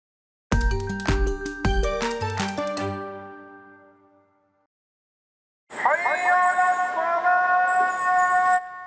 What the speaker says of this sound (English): What you're hearing is a call to prayer.